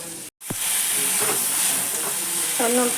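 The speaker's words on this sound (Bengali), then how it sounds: "এদিকে মশলাটা কষাচ্ছি" Spice paste sautés in a hot pan, giving a continuous close hiss and sizzle with a brief dropout near the start. A voice speaks faintly now and then under the frying.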